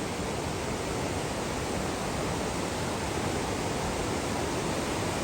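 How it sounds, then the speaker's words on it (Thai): Waterfall in southern Laos near Pakxong, Champasak province, heard as a steady, even hiss of falling water, fairly faint and continuous with no voices. "ดูมองน้ำตก"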